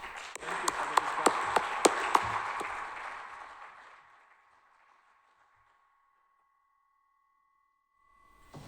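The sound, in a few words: audience applause after a presentation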